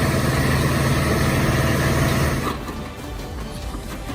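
A wood chipper's engine runs with a loud, heavy, steady drone, then drops off sharply partway through to a quieter, rougher rumble.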